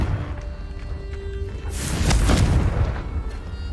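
A Confringo blasting spell goes off in the video game Hogwarts Legacy, a single deep, loud boom with a rumbling tail, heard alone without talk.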